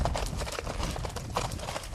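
A Foxtrotter horse being ridden, its hooves clip-clopping in a steady, fast rhythm over a continuous noisy background, moderately near.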